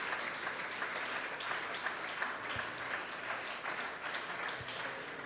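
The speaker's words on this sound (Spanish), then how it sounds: "Dele ese aplauso fuerte al Señor Jesús." A congregation at a Christian church service gives a loud, sustained round of applause for Jesus, a steady wash of clapping that carries on without a break.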